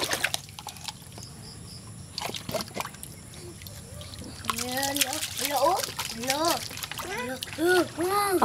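Water splashing and sloshing as children play and bathe, faint trickles at first, then livelier splashes mixed with children's voices and excited talk.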